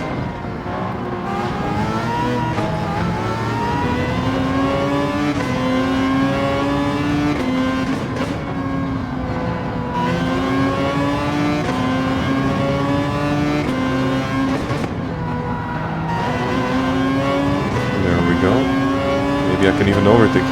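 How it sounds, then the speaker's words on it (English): Toyota hybrid race car in Gran Turismo 7 accelerating steadily, its engine tone climbing and dropping through gear shifts, continuous and fairly loud under a voice. "This Toyota is a hybrid, so it has really good acceleration and also really good top speed."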